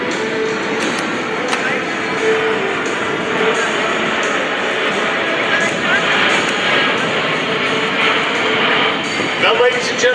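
A Boeing C-17 Globemaster III jet roars steadily overhead during a demonstration at the Great Texas Airshow, its broad engine noise continuous and loud while an announcer speaks over it.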